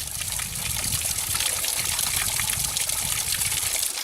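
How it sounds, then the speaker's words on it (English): Small trickling waterfalls along the Pacific Crest Trail in Washington give a close, steady splashing and gurgling of running water, continuous and moderately loud with no voices. "I love these little waterfalls."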